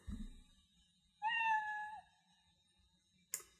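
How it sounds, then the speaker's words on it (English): A single synthetic meow from the Scratch cat sound effect, one clear, bright cry in the middle of near silence, with a faint click just after. "I only heard 1 meow."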